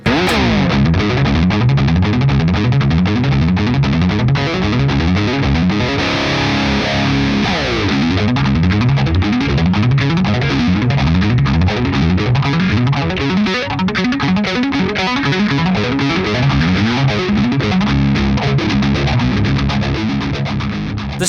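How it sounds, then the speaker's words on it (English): A palm-muted, distorted electric guitar chugs a repetitive riff, its tone swept by a swirling phaser effect. Loud and continuous, with no voice. "Because it's all palm muted and repetitive, the phaser effect is actually coming out really nicely."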